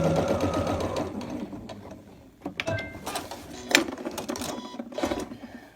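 A close sewing machine whirs steadily while stitching pinwheel quilt pieces, then breaks into short, uneven bursts of stitching with clicks and handling noises.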